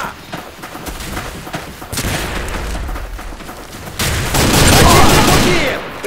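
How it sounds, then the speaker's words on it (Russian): A grenade blast erupts into a long, loud, roaring burst amid crackling gunfire in the shooter Arctic Combat, with shouting voices in between. "Граната!"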